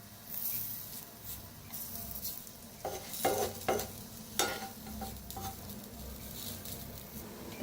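Brinjal slices sizzle in a frying pan as they are turned and pressed down, a continuous close hiss broken by several sharp scraping and tapping knocks of the utensil against the pan.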